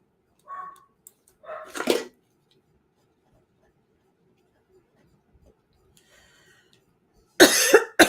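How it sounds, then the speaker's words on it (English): Dogs barking indoors in short separate bursts: two brief barks early, a long quiet stretch, then a louder burst at the end. "My dogs are barking a bit."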